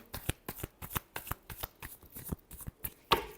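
Tarot cards being shuffled in a final round, a quick series of crisp riffling snaps in an even rhythm, close and alone, ending in a sharper slap.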